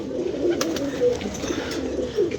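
Pigeons coo in soft, low, repeated calls over a steady background murmur, with a few faint higher chirps mixed in.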